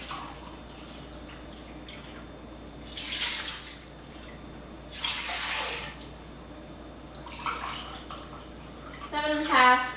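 Water pours in several separate bursts into a container for kosher dill pickle brine made with Mrs. Wages mix, each splashing rush lasting a second or so over a quiet kitchen background.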